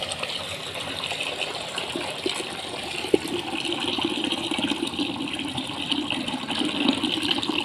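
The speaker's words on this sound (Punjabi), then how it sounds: "ਅਸੀਂ ਥੋੜਾ ਜਿਹਾ ਪਾਣੀ ਭਰ ਦਈਏ" Water gushes steadily from a tap or hose into an animal drinking container outdoors, a loud continuous splashing that swells slightly toward the end.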